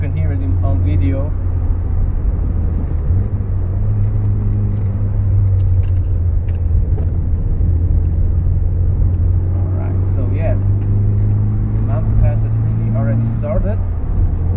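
Steady engine drone of a Nissan Sunny Coupe GTi on Swiss mountain roads, a loud continuous rumble with shifting revs throughout, heard from inside the car.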